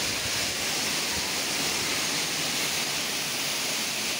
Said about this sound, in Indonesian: Apalagi dengan suara gemericik air membuat kita rileks.